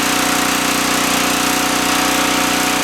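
A Champion 1500 portable generator engine running with its fuel valve shut off, a loud, steady, close droning hum with a constant rhythmic pulse and no voices.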